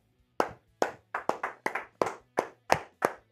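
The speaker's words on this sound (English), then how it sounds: "Everyone clap it up for Rusty Moore right now" Roughly ten sharp hand claps from a single person, close and distinct, at a loose, slightly uneven rhythm, with quiet background hum between them.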